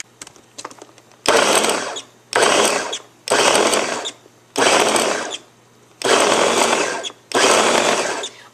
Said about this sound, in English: So now I'm going to pop the lid on and start blending.